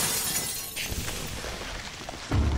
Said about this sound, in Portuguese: Quebrar o vidro aqui porque eu sou um vândalo